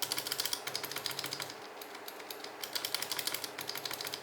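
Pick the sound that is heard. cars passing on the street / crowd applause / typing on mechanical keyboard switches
typing on mechanical keyboard switches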